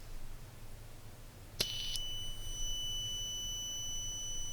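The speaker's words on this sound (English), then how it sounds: "You can see the buzzer." Cheap AliExpress gadget's buzzer sounds a single sharp, high electronic beep that cuts in suddenly and rings on as a steady tone over quiet background hum.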